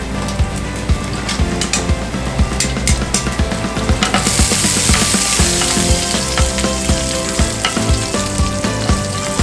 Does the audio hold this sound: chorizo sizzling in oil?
yes